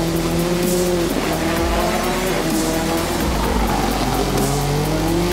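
A Subaru STI race car laps the Nürburgring circuit, its engine droning loud and steady for the whole stretch with shifting pitch and a hint of tire squeal.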